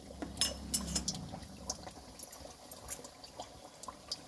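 Pumpkin and jaggery gharya coated with sesame and poppy seeds are frying in hot oil. Close, quiet crackles and pops sound irregularly, louder at first, then settle into a light, scattered sizzle.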